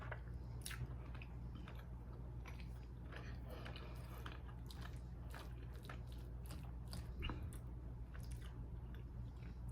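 Close-up chewing and biting on a big bowl of tuna casserole, soft wet squishy mouth sounds with occasional crunchy bites repeating steadily over a low constant background hum, no talking.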